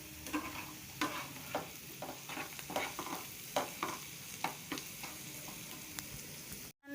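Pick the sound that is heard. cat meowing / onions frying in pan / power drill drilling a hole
onions frying in pan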